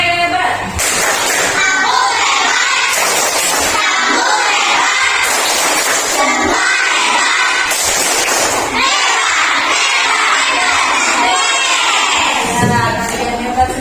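Classroom of schoolchildren loudly performing a rhythmic clapping cheer, with repeated bursts of claps and shouted chanting in close, lively succession.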